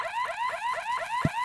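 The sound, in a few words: alarm going off in the video game Horace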